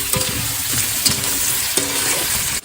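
Onions, tomatoes and curry base frying and being stirred in a pan, a steady close sizzle with scraping spoon strokes at irregular intervals.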